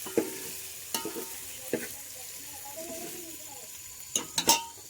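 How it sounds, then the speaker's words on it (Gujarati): Stuffed okra with spices is stirred gently in a pan, soft sizzling beneath several sharp scrapes and taps of a spoon against the metal, with a cluster of quick strokes near the end. "હવે આપણે હળવું હળવું હલાવીએ એટલે જેમ કે મસાલો નીકળી ન જાય"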